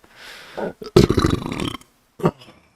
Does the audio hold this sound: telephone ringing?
no